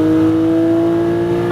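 Porsche Cayman GT4 engine on track under light throttle, a loud, steady, close-up drone with strong, even tonal harmonics that hold through the whole stretch.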